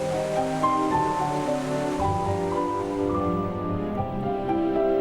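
Jikso Falls in Byeonsan, Buan pours steadily, a continuous broadband rush of falling water heard beneath sustained tonal music.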